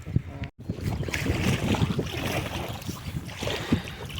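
Wind buffets the microphone while an inflatable kayak paddles along a river between Vilnius and Kaunas, with steady rushing and water noise throughout and one sharp dropout near the start.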